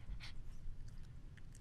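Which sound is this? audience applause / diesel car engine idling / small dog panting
small dog panting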